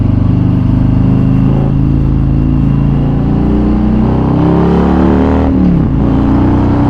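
A 2017 Harley-Davidson Street Glide with a 107ci engine and slip-on exhaust accelerates hard on the road, its loud, deep engine note rumbling and rising steadily under heavy wind buffeting, with no talk.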